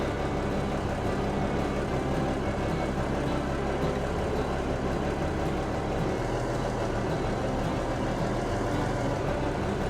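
A heavy truck in the Truck World Australia driving game reverses slowly, its engine a steady, loud, continuous rumble with no talking over it.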